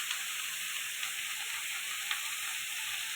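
Cabbage and shrimp sizzle steadily in a hot pan while being stir-fried, a continuous bright frying hiss with small crackling pops, close and alone with no talking.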